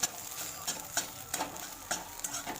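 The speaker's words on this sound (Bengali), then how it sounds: "ডিমটা ভেজে নিচ্ছি।" An egg fries in a pan with a soft, quiet sizzle, broken by several light spatula taps and scrapes.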